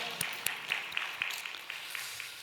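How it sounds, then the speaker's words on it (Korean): A church congregation at a Sunday family worship service gives applause, a faint, distant spread of scattered claps with a few sharper individual hand claps standing out against the hall's background. "우리의 찬양을 받으신 하나님께 영광의 박수 올려드릴까요?"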